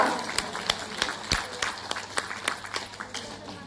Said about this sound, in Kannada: ಒಂದು ಜೋರಾದ ಚಪ್ಪಾಳೆಯ ಮೂಲಕ